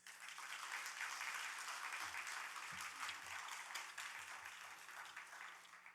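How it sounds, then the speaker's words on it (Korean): A church congregation at a midweek Bible study gives sustained, fairly distant applause welcoming a missionary to the front, steady clapping throughout with no one speaking. "우리 선교사님 나오실 때 뜨겁게 박수하겠습니다."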